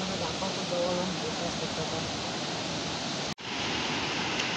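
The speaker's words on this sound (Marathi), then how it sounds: "अतिशय सुंदर असा हा भिवतास धबधबा" Bhivtas waterfall in the Surgana forest area roars with a dense, continuous rush of falling water, loud and close, broken only by a momentary dropout partway through.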